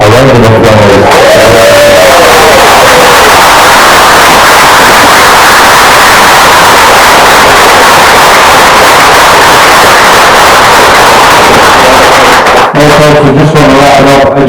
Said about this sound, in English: I think it will be only fair to give Sally Dawson a round of applause